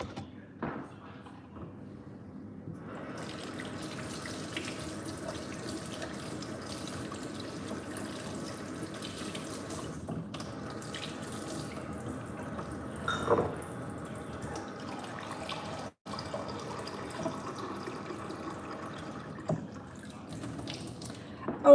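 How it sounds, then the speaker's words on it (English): Tap water runs steadily into a soup pot for butternut, potato and leek soup, a continuous close pour that sounds late at night in a home kitchen, with small drips and splashes and a brief interruption near the end. "I'm gonna fill that up with quite a bit of water actually"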